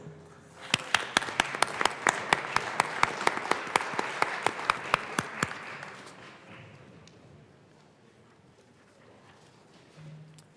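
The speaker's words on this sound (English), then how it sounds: "let's just give them a round of applause" A round of applause for two educators in the Colorado House chamber: a burst of clapping with sharp, distinct claps that swells quickly, holds for several seconds, then fades out to quiet room tone.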